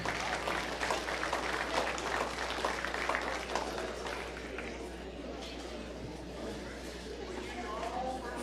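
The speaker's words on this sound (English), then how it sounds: "let's put a round of applause together here for our single entry lightweight crossbred" Steady crowd applause fills a livestock stock show arena after a lightweight crossbred steer entry, dense and sustained for several seconds with faint babble underneath, easing slightly toward the end.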